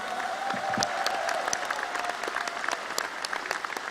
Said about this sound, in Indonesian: Kita beri tepuk tangan meriah untuk hadirin semua.